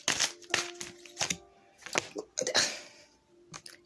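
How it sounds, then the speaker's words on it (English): A deck of cards shuffled by hand close by, giving a few irregular papery slaps and riffling bursts with short pauses between them and no talking. "I'm going to keep shuffling."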